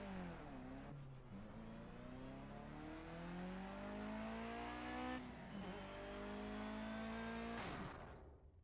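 A Mitsubishi in a Project Cars crash test revs hard, its engine climbing in pitch through repeated gear pulls, then cuts off with a brief sharp burst near the end.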